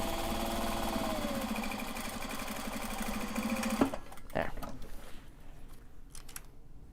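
A sewing machine stitches Japanese fabric with a loud, steady whirring drone close by, then stops, leaving scattered handling clicks and rustles.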